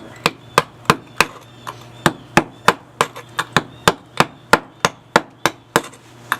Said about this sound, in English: I'll show you how well this hammer and chisel works.